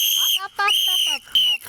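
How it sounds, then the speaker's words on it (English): An emergency whistle carried on a short hike in a Florida state park forest, blown in three shrill, piercing blasts close by, each cut off by a short pause. "I've got a whistle for emergencies"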